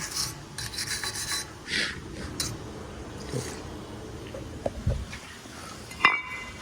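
Someone rubs and scrubs the front brake hub area of a Honda Accord during a brake pad and rotor replacement: a close, scratchy rasping in uneven strokes, broken by a few light metallic clinks.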